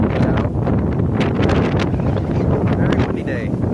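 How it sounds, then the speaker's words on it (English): Strong wind buffeting a microphone outdoors at an electric vehicle fire in Newport, Oregon, with loud continuous rumble and gusts throughout, and voices faintly under it. "Very windy day."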